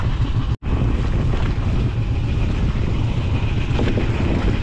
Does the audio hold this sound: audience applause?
no